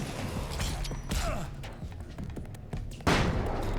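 Uzi gunfire from the Alan Wake video game, a dense chaotic stretch of shots, impacts and mechanical creaks with a louder burst near the end, set against game sound effects.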